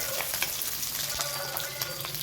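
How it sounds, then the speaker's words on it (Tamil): Ginger, garlic and shallots sauté in hot oil for a Tamil chicken gravy, a steady close sizzle and crackle with faint stirring clicks throughout and no talking. "இதெல்லாம் போட்டு நல்லா வதக்கலாம் ஆயிலே"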